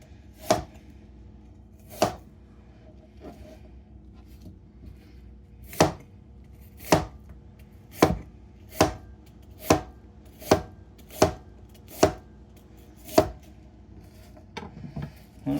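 A knife chops through chicken on a cutting board, cutting it into fajita strips: sharp isolated knocks, sparse at first, then a quicker regular run of about ten cuts, heard close with no talk.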